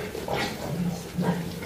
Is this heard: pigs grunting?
yes